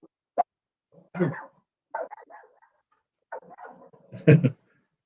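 A small puppy barks and whimpers in a few short, separate bursts, close to the microphone and fairly loud, with quiet pauses between the yips and whines.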